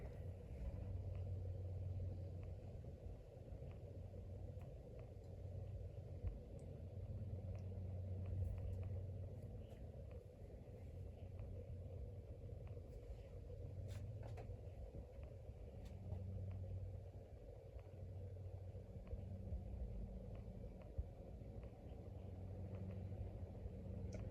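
A 42-inch Old Jacksonville Trimline ceiling fan with cane-insert blades spinning down, making a steady low rumbling whir with faint airy motor hum throughout and no speech.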